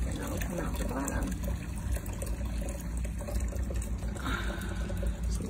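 Water from a Giantex two-tier barrel waterfall fountain with a hand pump flows and splashes in a steady trickle, fairly faint beneath a constant noisy background.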